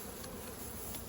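Honey bees swarming around hive boxes while honey is being pulled, a dense continuous buzz filling the space, close and steady with no talking.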